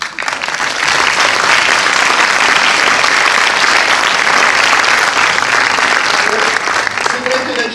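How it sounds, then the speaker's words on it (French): Sustained, loud applause from a cinema audience at a Paris film premiere at UGC Les Halles, continuous dense clapping filling the room with a faint voice underneath near the end. "On a toute envie de vous applaudir."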